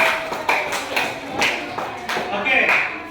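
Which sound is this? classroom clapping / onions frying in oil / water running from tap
classroom clapping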